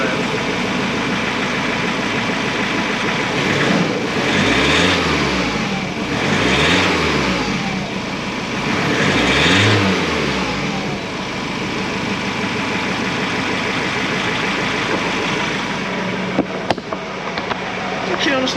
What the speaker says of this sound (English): so let's give it a bit of a rev.